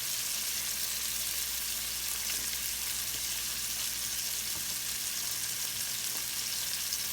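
Ground meat seasoned with Cajun seasoning, garlic powder, onion powder and Italian seasoning browns in a pan for jambalaya pasta, with a loud, even, continuous sizzle.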